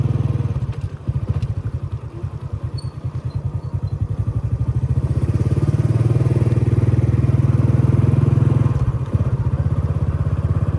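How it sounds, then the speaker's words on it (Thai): Motorcycle riding into the grounds of Champasak University in Laos, its mid-pitched engine running steadily and close with a rapid regular pulse, growing slightly louder, with a brief dip near the end. "ลองขี่รถเข้าไปด้านในเบิ่ง"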